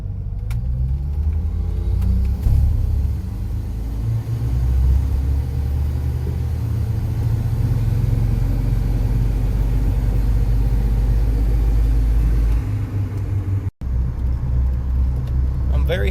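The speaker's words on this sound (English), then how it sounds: "right now we'll just pull out, do a little 0 to 60" A car fitted with an IPd Turbo Cam pulls out and accelerates from 0 to 60, its engine a loud, steady low rumble that holds throughout before a brief drop near the end.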